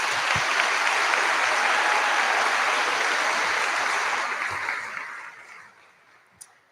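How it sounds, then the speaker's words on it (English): Audience applause at a scholarship ceremony, a broad sustained clapping from a large crowd in a hall that holds steady and then fades out toward the end, leaving near silence with one faint click. "Please hold your applause until all names have been announced."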